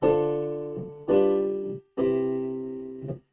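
Three sustained piano chords, a jazz ii-V-I progression of minor 7, dominant 7 and major 7 chords, played one after another, each ringing out and fading before the next, clear and close with no talking.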